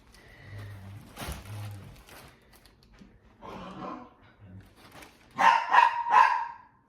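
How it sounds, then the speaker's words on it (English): A few dogs barking at a distance, a short burst near the start and a louder cluster of barks toward the end, with a person talking quietly in between. "oh look, the dogs are barking"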